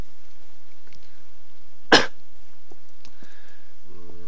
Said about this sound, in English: Sorry for coughing into your ear.